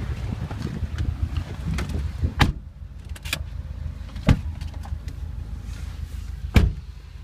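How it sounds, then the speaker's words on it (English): Interior road noise from a 2012 pearl white Subaru Impreza WRX on a test drive, a steady low rumble with a few sharp knocks and bumps as the car rolls along. "Let's take you guys on a short test drive and show you how the vehicle drives."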